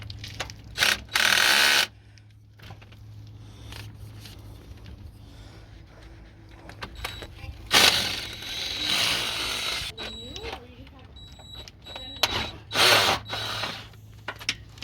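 A ratchet wrench loosens the timing belt tensioner bolt on a Toyota Sienna, with bursts of rapid close clicking separated by quieter gaps and handling noise, plus faint background sounds between strokes.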